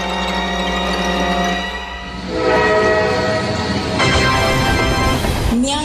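A train near New Delhi railway station roars past loudly, its horn sounding in long sustained tones over heavy rumbling and clatter of rolling cars, ending with a brief higher squeal.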